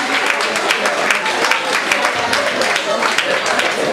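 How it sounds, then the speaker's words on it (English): An audience at a Nigerian school alumni gathering claps for a former vice principal, fairly steady applause throughout with talk mixed in underneath. "Kindly give her a round of applause."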